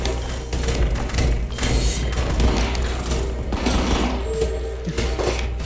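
Gunfire from the video game Rico comes as dense, rapid shots and heavy thuds in a constant loud barrage, with booming low rumble and clattering impacts filling the whole stretch.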